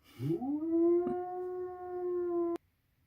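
A single dog howl rises and then holds a long, steady tone, fairly soft and close, with a brief click midway and silence afterward.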